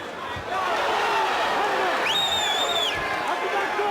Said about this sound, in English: this crowd here in Charlotte is simply frenzied